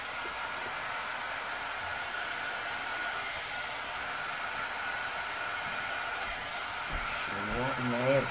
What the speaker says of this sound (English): Now it's going to work better is the hair dryer.